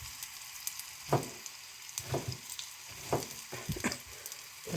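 Garlic and a tempering of spices fry in hot oil for a Kudu da saaru and chicken chilly home cook, giving a steady close sizzle with several sharper crackling bursts and stirring sounds, and no talk.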